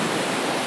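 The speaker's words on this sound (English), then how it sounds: "Look at this river." A rushing river in an Italian valley makes a dense, loud, steady roar of broadband water noise for a brief moment, with no other sounds in it.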